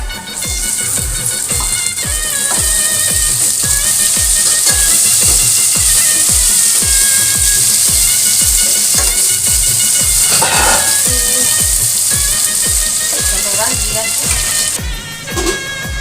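Peas with a bay leaf frying in hot oil give a steady loud hiss and sizzle throughout, with rhythmic low knocks underneath and a brief clatter near the end.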